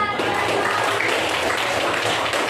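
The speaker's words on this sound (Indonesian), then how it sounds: "Tepuk tangan." Classroom audience applause during a teacher-training lesson, a steady, dense wash of many hands clapping at once, held evenly for a couple of seconds.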